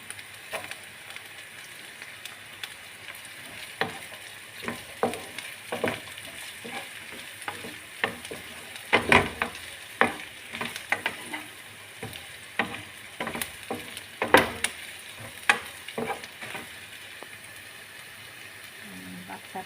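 Meat stir-frying in a pan with cauliflower, a steady sizzle and crackle running throughout with scattered louder pops and clatters of stirring, close and moderately loud, with no talking.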